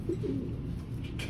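A semi-saddle racing pigeon coos softly in a short run of low, throaty notes at close range, followed by a brief rustle.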